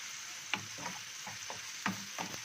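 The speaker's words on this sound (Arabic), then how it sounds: "3 فصوص توم، واخده تشويحه كده مع البصله." Garlic and onion sizzle in a pan with shrimp, a steady close frying hiss broken by several sharp clicks of a utensil stirring and scraping.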